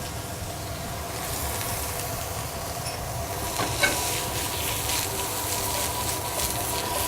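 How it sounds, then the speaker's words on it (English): Leeks, maitake mushrooms, local lettuces and fiddlehead ferns sautéing lightly in a pan, giving a steady, moderately loud sizzle with a faint stir or clink midway and no talking. "the last ingredient is just going to be a real light saute of some local lettuces."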